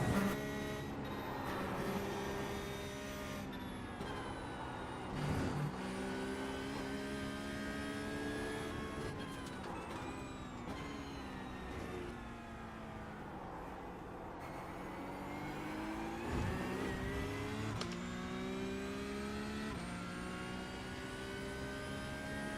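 Porsche Cup race car engines in the iRacing sim whine and drone continuously, pitch rising and falling through gear changes as several cars run together, loud and steady with no talking.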